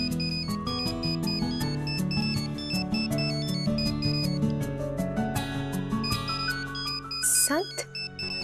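A phone ringtone for an incoming call plays as a steady, repeating melodic tune, continuous and fairly loud, running over dramatic background music with a brief chime near the end.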